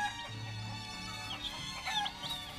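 Chicken clucking heard through a steady, fairly loud passage with harmonic calls and music-like tones overlapping, no speech.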